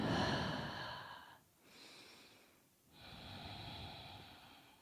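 Quiet, close breathing during a yoga class, with slow drawn-out inhales and exhales and a couple of soft snort-like breaths separated by short pauses.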